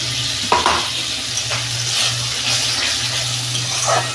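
Tomato paste frying with ginger and garlic in a pan, a dense close sizzle with scraping stirs at a few points, over a low steady hum.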